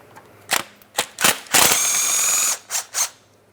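A ratchet works a 13mm mounting bolt loose on a 2008-2016 Chrysler Town & Country during a water pump inlet tube job: short, sharp clicking bursts, then one longer continuous run of clicks, then two more quick bursts, close to the microphone.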